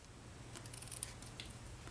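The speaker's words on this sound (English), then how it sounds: "We'll grab our paper snips and we'll trim." Sharp paper snips trimming crafting paper make a few quiet, crisp cuts in a row against soft room hiss.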